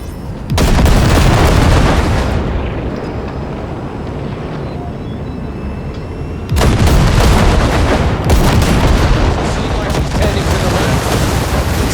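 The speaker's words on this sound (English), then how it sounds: "Keep shooting at those rust buckets." Sustained gunfire aimed at rusted wrecked cars in a scrapyard in Cyberpunk 2077, loud dense volleys with a brief lull between two heavy bursts, close and continuous.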